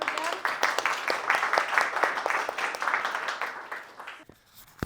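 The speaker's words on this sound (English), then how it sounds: "Let's clap again." An audience at a tech talk event applauds the speakers, a fairly close burst of many clapping hands that stays strong, then thins and fades out near the end, with some voices mixed in.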